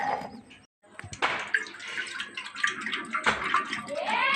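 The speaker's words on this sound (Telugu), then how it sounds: "ఇప్పుడు జున్నుపాలు అయితే కలుపుకుందాము." Colostrum milk poured into a mixing bowl with ground pepper and cardamom, a steady close splashing pour after a brief pause, with no talking.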